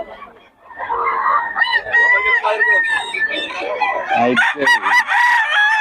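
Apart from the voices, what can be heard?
roosters (stags) crowing at a market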